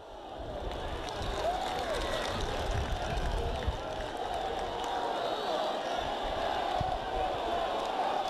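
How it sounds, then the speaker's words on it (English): Football crowd at a 1999 FA Trophy semi-final between Cheltenham Town and Kingstonians, a steady, distant buzzing murmur with faint shouts throughout. "The crowd are buzzing here."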